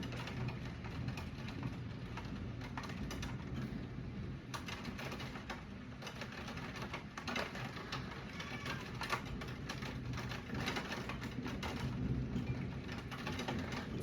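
Steady rain falls throughout with low rumbling that fits distant thunder, a dense continuous patter at a moderate level and no talking.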